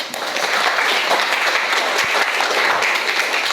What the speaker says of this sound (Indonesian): Aplaus untuk temanmu.